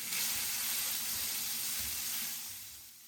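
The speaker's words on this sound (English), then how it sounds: "You hear that sizzle?" Sirloin steak sizzles loudly in a tablespoon of olive oil in a hot skillet, a steady hissing crackle that holds for about three seconds and fades slightly at the end, with no talk.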